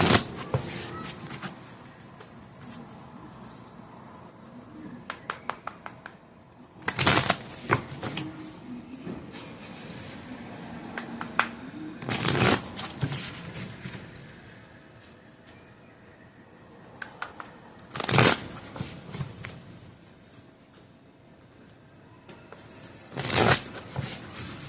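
Tarot cards shuffled by hand, with several sharp riffle bursts spaced through a quiet room and softer handling rustles in between.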